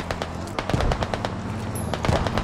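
Automatic gunfire in the military shooter Squad: rapid, loud bursts of rifle and machine-gun shots in a steady rattling rhythm, close by, with no talking over it.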